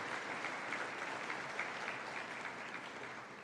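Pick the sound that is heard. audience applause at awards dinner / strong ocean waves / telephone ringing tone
audience applause at awards dinner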